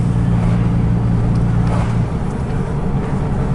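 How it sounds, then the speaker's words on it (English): A car passing by on a road at night near a railway line in Port Huron, Michigan: a loud, close engine rumble that holds steady, then eases off as the vehicle goes by. "Once this car passes"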